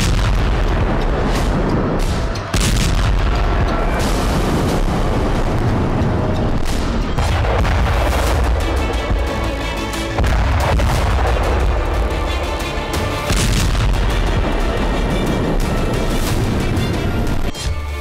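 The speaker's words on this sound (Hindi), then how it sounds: "बारूद से भरी बोट्स जैसे ही युद्धपोत से टकराई, जोरदार विस्फोट के साथ आग की लपटें और धुएं का गुबार आसमान में उड़ता दिखाई दिया।" Explosions and gunfire from explosive-laden drone boats striking a Russian warship in the Black Sea, loud repeated booms and bursts with rumbling blasts throughout, no speech.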